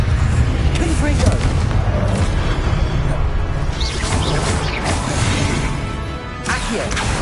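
Confringo fire-blast spell from Hogwarts Legacy going off in a busy game fight, with dense rumbling booms and crashing bursts running the whole time under loud layered action and voices.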